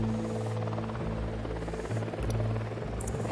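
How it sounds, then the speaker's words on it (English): A small surveillance drone hovering in Ghost Recon Wildlands, giving a steady close whirring buzz with a sustained low hum and slight wavering in pitch, heard alone without voices. "Drone is airborne."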